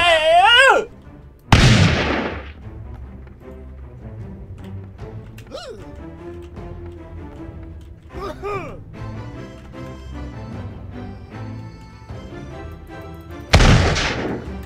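Loud gunshots and explosive blasts from the battle game Totally Accurate Battle Simulator, with sharp booms at the start and end and scattered firing and game sounds between them.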